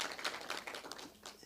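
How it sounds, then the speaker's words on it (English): An audience at a municipal commission meeting claps in a short burst of scattered, moderately distant applause. "Another round of applause for him"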